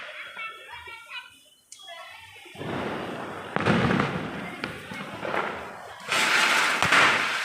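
Sharp firecracker bangs go off at irregular intervals during Diwali, some close and loud, over a crackling, hissing rush of burning fireworks including a ground spinner; faint voices early on.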